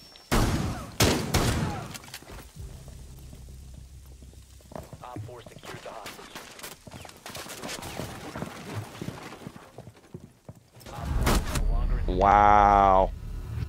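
Shotgun blasts in a Rainbow Six Siege match, a few sharp, heavy reports at the start and again later, set among quieter in-game clatter with players talking over it.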